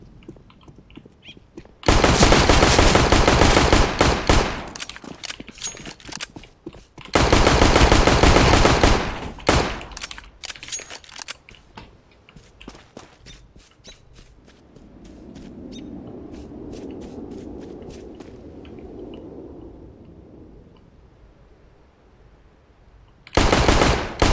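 Bursts of automatic rifle fire in the video game CS:GO: two long loud sprays, a scatter of shorter shots, a quieter low rumble in between, then another loud burst at the end.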